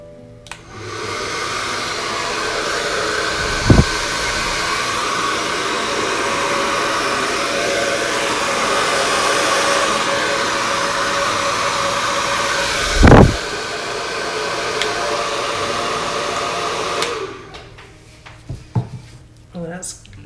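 A hair dryer blows in a steady, close whoosh over a resin pour for about seventeen seconds, interrupted by a couple of brief knocks, then clicks off, leaving a few small handling sounds.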